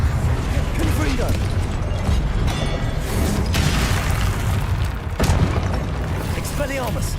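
Booming blasts from the Confringo spell in Hogwarts Legacy rumble steadily under a dense, loud game soundscape. A voice repeatedly calls out spell names over the explosions.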